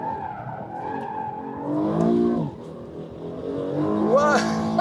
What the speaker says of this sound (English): Still wheel spin